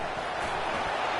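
Stadium crowd in EA College Football 25, a steady broad roar of cheering fans filling the whole moment, loud and continuous with no breaks.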